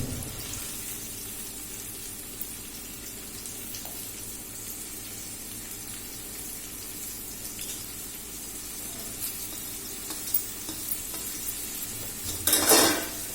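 Onions and three green chillies frying in oil for a prawn curry, a steady soft sizzle throughout, with a brief clatter of utensil against the pan near the end.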